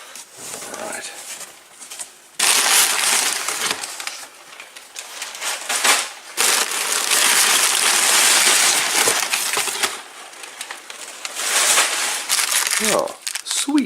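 Packing paper crinkles and rustles in bursts while a box of motorcycle handlebars for a Royal Enfield Classic 500 is unpacked, with loud stretches of crumpling and short pauses.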